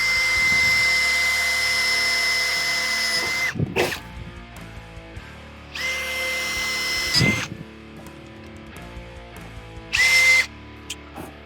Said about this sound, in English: So now that we've drilled them all with the 1/8 inch drill bit